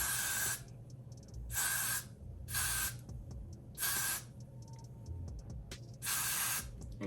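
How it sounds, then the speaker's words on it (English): Five loud, hissing bursts from a hair spray can sprayed around a wig's hairline, each about half a second to a second long, separated by short pauses, close up. "you are gonna literally spray the entire perimeter of your hair"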